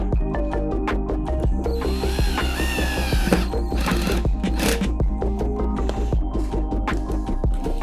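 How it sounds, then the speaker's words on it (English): Power drill driving a self-drilling screw into the frame of an electric desk during assembly, a loud whirring motor with rapid ratcheting clicks and pitch rising in bursts, close and continuous throughout. "next up we're going to be drilling number 13 screw into here"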